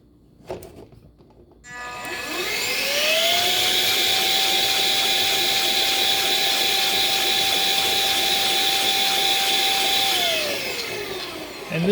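3D-printed PLA air engine with a rotating valve, driven by a cheap air duster, spins up into a loud, steady high whir with a rising and falling tone at start and finish, alone after a few faint clicks.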